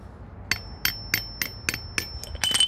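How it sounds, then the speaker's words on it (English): A hammer taps repeatedly on a nut cracker holding a macadamia nut, producing about seven sharp metallic knocks in a steady rhythm, close and clear with no talking. "you put it on that, on the nut, and you use the hammer"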